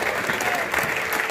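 A church congregation claps in dense, sustained applause during a French-language sermon, loud and continuous with a faint murmur of voices underneath.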